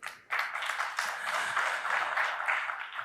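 An audience bursts into applause in honor of Atal Bihari Vajpayee at a poetry recitation, a sudden dense wave of clapping that starts after a brief quiet and carries on steadily.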